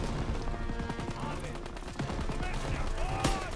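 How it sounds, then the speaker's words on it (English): Machine gun fire from the Call of Duty WW2 campaign plays as dense, continuous bursts of automatic shots with battle noise behind them, and a voice can be heard in the mix. "that MG shooting right at me"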